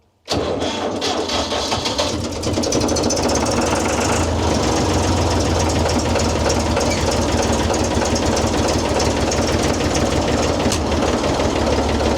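A Massey Ferguson 255 diesel tractor engine cranks and catches, then settles into a loud, steady knocking idle that runs on without pause.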